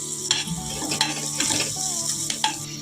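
Onions and green chillies frying in a pan for coconut milk rice, a steady close sizzle broken by several sharp scrapes and stirs of a utensil against the pan.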